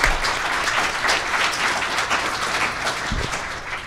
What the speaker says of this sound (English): they do deserve a big round of applause